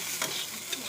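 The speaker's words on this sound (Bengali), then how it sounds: "ভালো করে ভেজে নেব।" Carrots and beans fry and get stirred in a pan for homemade chowmein, a brief steady sizzle with a couple of light scraping stirs, close and clear.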